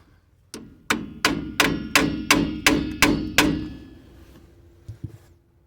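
A hammer strikes a rusted vehicle part to break it free: nine sharp, evenly spaced metallic whacks, close and loud, each ringing briefly. After a pause, one softer tap follows.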